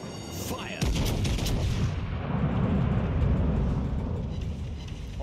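Battleship main guns fire in the naval game World of Warships Legends, a loud deep boom followed by a long rumbling roll that fades slowly, after a shout and some brief clatter at the start.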